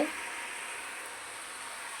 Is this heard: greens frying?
yes